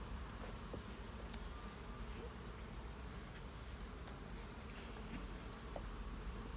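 Honey bees buzzing in an open hive during a midsummer hive check, a faint, steady, continuous drone with no pauses.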